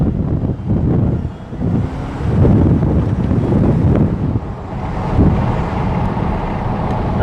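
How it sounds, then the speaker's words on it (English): A BMW 745i with a 4.4-litre naturally aspirated V8 gives a low, steady engine rumble, fairly close and continuous with slight swells in level, mixed with some wind-like noise and no talking. "You do get a little bit of a V8 rumble"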